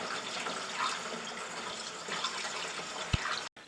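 Windshield washer fluid being poured into the reservoir of a Volkswagen Golf 4 Cabrio, a steady close-up splashing and gurgling of liquid that stops abruptly near the end.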